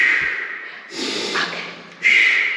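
Close, loud breathing: a long hissing inhale followed by a forceful exhale and another sharp breath, a deep breath taken to calm down, with no one speaking.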